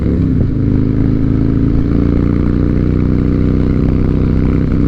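A Harley-Davidson Night Train motorcycle with new spark plugs rumbles loud and steady as the rider shifts up through the gears, its deep V-twin engine drone holding close throughout.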